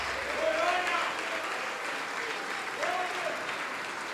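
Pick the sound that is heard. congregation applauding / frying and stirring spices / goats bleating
congregation applauding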